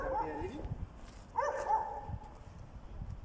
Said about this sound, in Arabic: ودي كلاب الشارع اهو